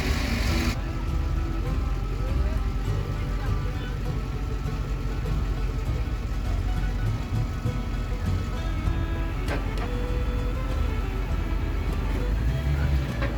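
A Land Rover's engine labors steadily as it tows another vehicle slowly up onto a trailer, a continuous mid-pitched drone with rumbling low end and scattered clanks throughout.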